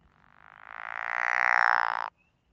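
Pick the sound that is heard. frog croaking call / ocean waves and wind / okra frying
frog croaking call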